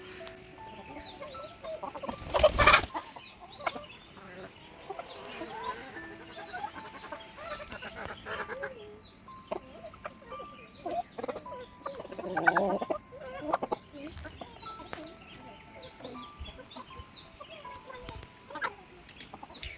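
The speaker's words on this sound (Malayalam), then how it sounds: "നമ്മുടെ കോഴിക്കുഞ്ഞൊക്കെ തീറ്റയൊക്കെ തിന്ന് അടിപൊളിയായിട്ടിരിക്കുക കേട്ടോ" Young chicks on a poultry farm peep and cluck softly while eating feed, scattered and faint, with one louder burst early on and a quieter flurry later.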